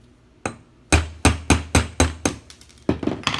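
A hammer drives a pin out of a rifle, striking metal in sharp, close, evenly spaced blows, about nine in quick succession with no talking.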